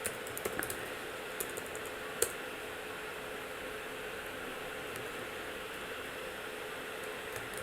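Typing a query on a computer keyboard: a few faint, sparse key clicks and taps over a steady background hiss, quiet and intermittent.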